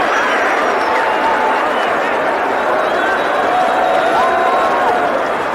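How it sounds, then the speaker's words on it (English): A huge cricket crowd at St. George's Park in 1987 roars and cheers continuously, a dense sustained wash of voices and applause with whistles rising over it, loud throughout. "this huge crowd at St. George's Park loved every moment of it"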